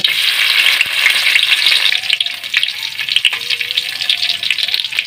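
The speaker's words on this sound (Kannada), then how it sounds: "ಅದಕ್ಕೆ ಜಜ್ಜಿದ ಬೆಳ್ಳುಳ್ಳಿ ಹಾಕುವ." Crushed garlic dropped into hot oil fries loudly up close, a dense steady sizzle with some stirring and crackle throughout and no talking.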